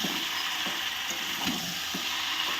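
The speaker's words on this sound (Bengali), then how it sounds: "দেখুন আমি সমস্ত সবজিগুলোকে ভালো করে কষিয়ে নিচ্ছি" Mixed vegetables for labra sizzling and frying in a pan, with a spatula scraping and stirring in a few regular strokes under the constant close sizzle, no voices.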